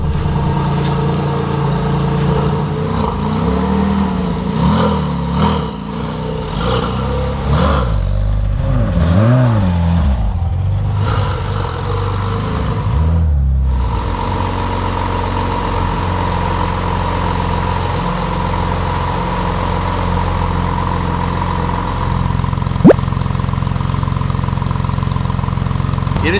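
A Porsche 996 Turbo engine runs through a worn-out old exhaust. The engine sounds close and loud, with a rough idle, a burst of revving, and then a steady, droning idle.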